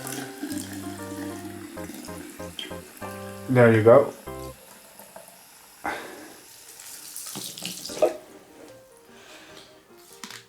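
Tap water runs and splashes into a container to dilute chlorine bleach, with bursts of louder pouring, while a person speaks briefly.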